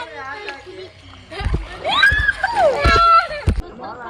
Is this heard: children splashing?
yes